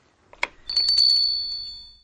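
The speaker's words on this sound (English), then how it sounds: "Bells. Is it necessary to always have bells?" A single strike is followed by a bright, sustained bell ring that shimmers and slowly fades, close and clear in a quiet room.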